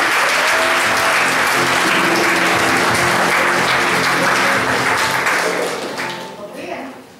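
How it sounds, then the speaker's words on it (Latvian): Sustained applause from a sizeable crowd at a conference, dense steady clapping that fades out near the end as a voice begins to speak. "Sagaidām aplausi!"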